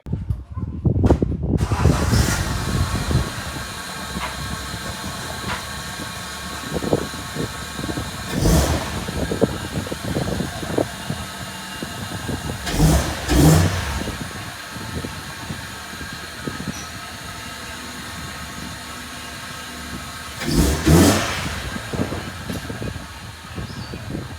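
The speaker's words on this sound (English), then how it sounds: "let's pull this car out" A car engine runs as the vehicle is pulled out, a continuous rumbling drone with several louder surges and knocks spread across the stretch, heard close and without talk.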